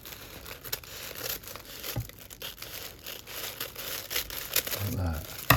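Paper being cut with scissors while unboxing a blank journal kit, crisp snipping and crinkling rustles in irregular bursts, close up, with a voice talking over parts of it.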